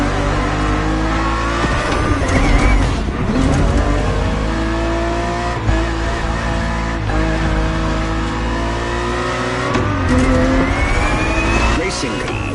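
A Ferrari race car engine roars and revs on a racetrack, loud and continuous with rising and falling pitch, with a voice faintly audible underneath.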